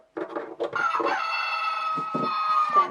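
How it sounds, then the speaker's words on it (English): Chicken clucking and crowing among farm-animal toy sounds, a dense run of harmonic squawks with short clucks lasting about three seconds, loud and close with no talk. "Then goes the chicken."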